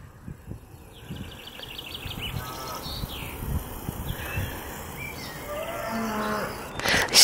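Cattle, including a bull, moo repeatedly from a short distance, deep drawn-out calls over an outdoor background with faint birds and rustling.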